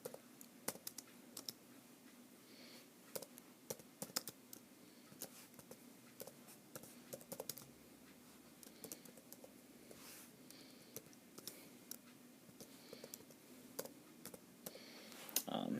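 Quiet, close keystrokes on a computer keyboard as a blog title is typed, irregular light clicks pattering steadily over a faint background hum, with brief speech.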